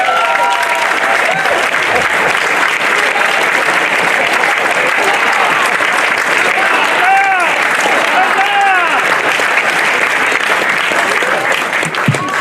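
A crowd applauding at a lighthouse relighting ceremony in Scituate, loud sustained clapping with some voices and cheers mixed in, steady throughout.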